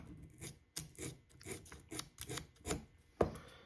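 Short repeated rubbing strokes from buffing small spots off an HO scale Athearn SD40-2 model locomotive, close and quiet, in an uneven rhythm with one sharper scrape near the end.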